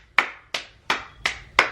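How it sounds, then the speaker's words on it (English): A lone person claps five sharp, evenly spaced hand claps, close and clear with no talking. "Round of applause."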